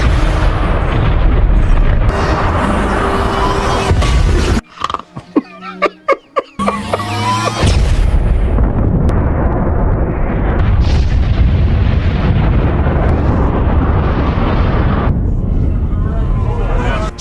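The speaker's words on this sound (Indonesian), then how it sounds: "Setelah kelima bom meledak," Loud, heavy booms and rumbling blasts fill the scene, with a few sharp dropouts midway and voices mixed in, continuous and overwhelming.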